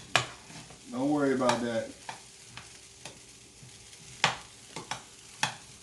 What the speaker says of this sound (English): Just stir it in until the cheese starts melting down.